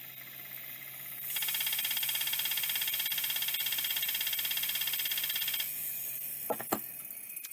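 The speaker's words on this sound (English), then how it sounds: "Let me try and get this thing to spin back up one more time." A failing hard drive tries to spin up, giving a faint, steady, high buzzing whir that runs for several seconds and then drops off, followed by a couple of small clicks and knocks.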